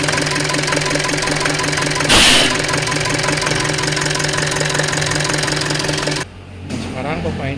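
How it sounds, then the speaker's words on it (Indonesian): A Colt Diesel Canter 125 PS injection pump runs steadily at a low idle speed of 325 rpm on a test bench, a continuous mechanical drone with a brief louder burst near the start and a quieter change toward the end. "sekarang pompa injeksi akan dioperasikan pada putaran 325 rpm, yaitu untuk putaran langsam"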